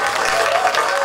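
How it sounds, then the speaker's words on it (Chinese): A crowd applauds at a Mid-Autumn Festival community event in a Taipei neighborhood, with a brief burst of dense, even clapping filling the space. "我们再给龙生里一个掌声好不好"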